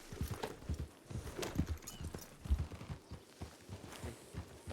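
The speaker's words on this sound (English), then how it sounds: "I'll fucking hitch my horse." Horse hooves clip-clop at a steady walking rhythm in a Western roleplay video game, fairly close and moderately loud, with a brief whinny-like sound mixed in and no talk over it.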